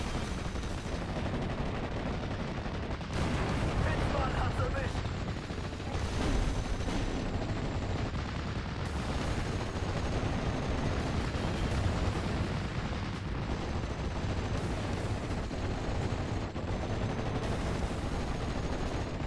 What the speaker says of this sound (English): Once again, artillery fire started falling on my Pioneers in the forest